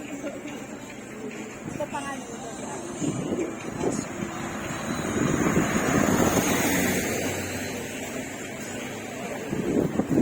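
Wind buffets an outdoor microphone at a scenic spot near Tagaytay, producing a continuous rumbling roar that swells and fades, while people talk in the background.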